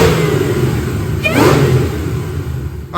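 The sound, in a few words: Whipple supercharged 2008 Mustang GT500 revving on dyno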